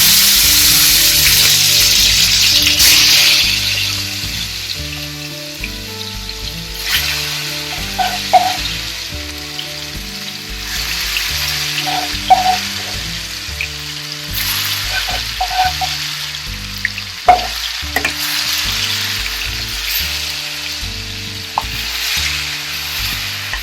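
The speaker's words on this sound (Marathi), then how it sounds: "मॅरिनेट केलेलं चिकन त्यात टाकायचं." Marinated village-style chicken frying in hot oil spiced with black and green cardamom, a loud steady sizzle with scattered pops and crackles throughout, alone without talk.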